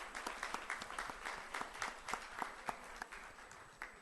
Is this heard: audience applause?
yes